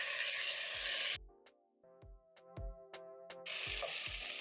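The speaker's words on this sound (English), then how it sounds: "You'll notice a crackling sound from the whole spices once they are well toasted." Whole spices and soaked rice toasting in a pan give off bursts of sizzling and crackling, with sharp stirring knocks and scrapes in a quieter middle stretch before the loud sizzle returns, no talking.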